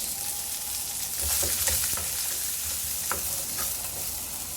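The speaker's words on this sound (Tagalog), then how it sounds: "Onion and garlic. Saute lang natin yan." Onion and garlic sautéing in hot oil for chicken adobo, a steady broadband sizzle with a few soft stirring scrapes and clicks of a utensil against the pan, close and continuous with no talking.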